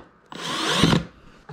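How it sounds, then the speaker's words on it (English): A power drill drives a screw into wood while assembling a Carter's by DaVinci Dakota 4-in-1 crib, a single close burst of whirring under a second long with a grinding bite near the end. "Come in with your drill or screwdriver."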